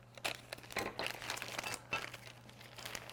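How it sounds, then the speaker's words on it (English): Plastic bag holding VRS swerve drive module parts being opened, with several close crinkling and rustling bursts, alone without talk. "it'll be a lot easier to show you if I take it out of the plastic bag."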